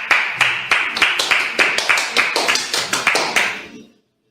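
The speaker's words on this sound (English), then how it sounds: "I'll clap it up for you." One person clapping hands alone at close range, about a dozen sharp, evenly spaced claps in a steady rhythm that stop abruptly, leaving silence.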